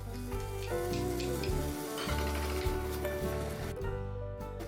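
Garlic and gnocchi frying in melted butter in a pan, a loud, steady close-up sizzle with crackling pops running the whole time, alone without voices.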